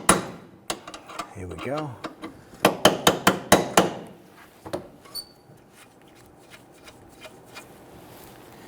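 Sharp metallic hammer taps on a nut threaded onto a control arm stud of a 2006-2012 Toyota RAV4, a quick burst of about six close, loud strikes followed by a few scattered lighter knocks; someone speaks briefly at the start.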